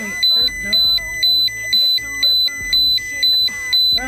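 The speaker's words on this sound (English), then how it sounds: "Alarm's going off." A radiation detector alarm sounding near radioactive objects, steady rapid electronic beeps pulsing about twice per second, loud and close, with a voice speaking over part of it.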